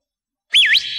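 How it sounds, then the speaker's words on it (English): A sharp finger whistle cuts in after a moment of silence, sliding up and down in a quick swooping tone before holding a steady high note, loud and close. "I taught myself how to whistle with my fingers."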